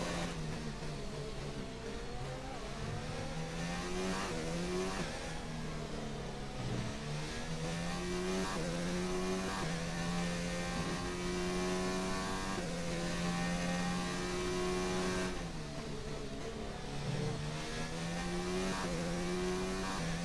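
Race car in a racing video game lapping on medium tires, its engine droning and revving continuously with pitch sweeping up and down through gear changes, loud and close with no talk.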